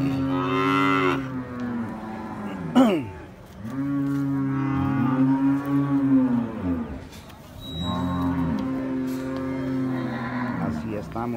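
Cattle low repeatedly on a farm in Santa Rosa de Lima, a huge bull and a black cow giving long, loud, close moos in three drawn-out calls with short gaps between them.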